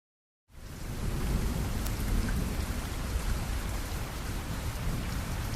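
Steady, heavy rain pours down after a brief silent start, a dense continuous hiss of drops hitting a surface with no voices.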